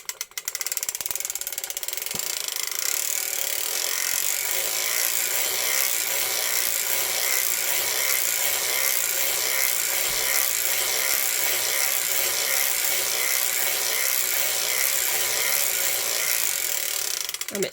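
A circular sock knitting machine is cranked steadily while knitting a 48-stitch sock, giving a continuous fast ratcheting, clicking whir of gears and needles close up, with no talking over it.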